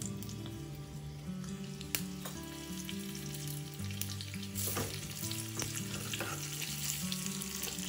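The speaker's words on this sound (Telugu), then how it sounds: "మినపప్పు, ఆవాలు, జీలకర్ర, కొద్దిగా పసుపు వేసి దీన్ని వేగనివ్వాలి" Urad dal, mustard seeds, cumin and turmeric frying in hot oil as a tempering for raw tomato chutney, a steady loud sizzle with crackling pops and a bright spit or two, heard alone without talk.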